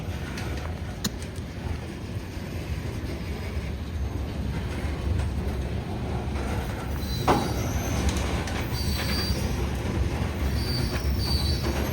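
A long freight train rolls steadily past close by, wheels rumbling and rattling, with high metallic squeals rising now and then over the din.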